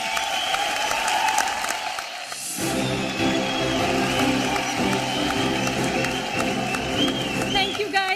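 An awards-ceremony crowd in a large hall at the Zee Critics' Choice Awards claps as a film critic is welcomed onstage, a brief dip before swelling applause and cheering under music that runs steadily to the end.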